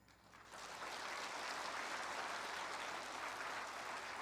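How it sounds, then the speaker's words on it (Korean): A church congregation at a New Year's Sunday worship service claps together, the applause swelling quickly and holding as a dense, even, fairly distant wash of clapping throughout. "인사할 때 박수로 또 격려해 주시면 좋겠습니다"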